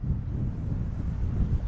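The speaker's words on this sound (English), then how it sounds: "It is windy out here today." Wind buffets a microphone outdoors on a gusty day during an e-bike test ride, a continuous low rumbling roar with no speech, steady throughout.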